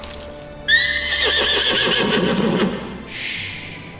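A horse lets out a loud, close, drawn-out whinny that rises and then trails off, with hoof clip-clops below it and a breathy snort at the end.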